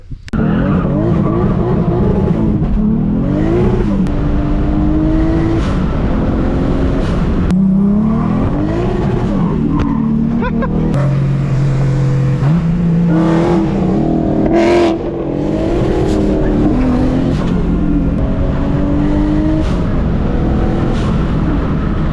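A 600 hp 1.5JZ-swapped Lexus IS300 runs hard and loud throughout, its engine note rising and falling through repeated pulls and shifts, with brief tire squeal, heard close up with no talking.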